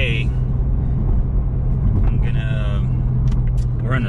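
Inside a Toyota Supra on the move, a low, steady engine and road rumble fills the cabin beneath someone talking over it.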